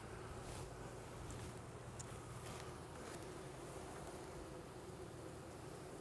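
Honeybees buzzing in a hive after a queen is introduced, a dense continuous drone that stays steady and fairly faint, with some outdoor wind noise behind it.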